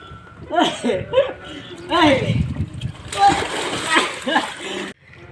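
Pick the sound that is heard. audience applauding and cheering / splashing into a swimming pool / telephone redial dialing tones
splashing into a swimming pool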